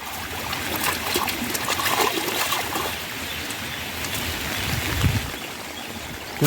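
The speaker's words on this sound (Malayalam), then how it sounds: "ഇപ്പൊ മഴ കുറവുണ്ട് കേട്ടോ അല്ലേ അൻഷാ?" Light rain falls steadily outdoors, a continuous soft hiss with faint trickling and no voices.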